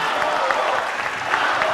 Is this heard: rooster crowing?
no